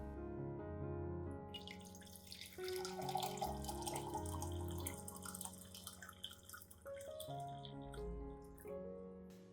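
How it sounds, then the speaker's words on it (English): Warm water is poured into a clean cup to start a homemade orchid fertilizer, giving a quiet, continuous trickling pour with rising tonal resonance as the cup fills. "I will prepare 500 milliliters of warm water and pour it into a clean cup."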